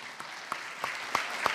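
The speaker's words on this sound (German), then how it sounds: "Großer Applaus für Gruppe 1" A handful of separate handclaps ring out at a youth hackathon in Munich, about five sharp claps spaced evenly and fairly faint, rather than a full ovation.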